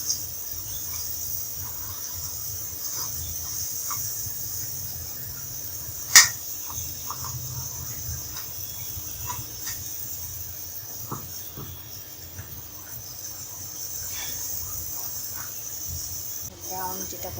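Bundia batter deep-frying in hot oil gives a steady, soft sizzling hiss throughout, with one brief sharp click partway through, heard close in a home kitchen.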